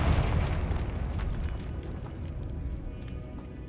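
A Confringo fire spell bursts in Hogwarts Legacy with a heavy booming explosion that hits at once, then rumbles and crackles as it slowly fades, with no talking.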